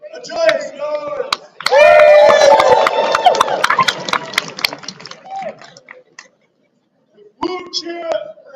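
Audience at a baronial court in the afternoon, cheering and whooping loudly in a sustained burst, with a brief cut to silence before voices and cheering resume.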